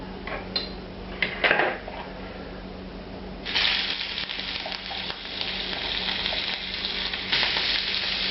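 Shrimp sear on a smoking-hot cast iron grill, a steady broadband sizzle with clinks of pans and utensils early on, then a louder burst of crackling hiss as more shrimp hit the metal.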